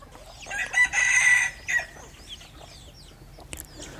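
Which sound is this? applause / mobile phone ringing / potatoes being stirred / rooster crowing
rooster crowing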